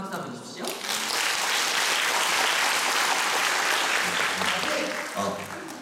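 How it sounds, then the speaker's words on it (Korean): Loud, sustained audience applause fills a musical theatre venue after a song from the musical Singles, a dense wash of clapping that swells quickly and holds steady before tapering slightly at the end. "여러분 박수 한번 주십시오"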